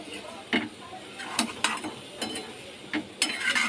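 Chopped radish is stirred and fried in a pan with salt, chili powder, turmeric and cumin powder, giving faint sizzling under a handful of sharp clanks and scrapes of the spoon against the pan.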